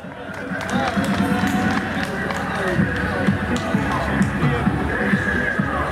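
An audience at a televised talent contest stage applauds a contestant, a steady spread of clapping across a large hall with crowd murmur beneath, continuous and moderately loud.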